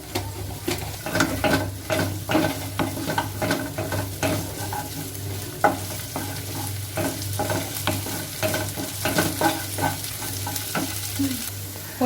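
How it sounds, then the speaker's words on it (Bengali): Whole cumin seeds crackle and sizzle in hot oil as water spinach fries in a pan, giving a loud, steady sizzle with frequent stirring scrapes and small pops throughout. "এবার আমি অল্প একটু গোটা জিরে দেব।"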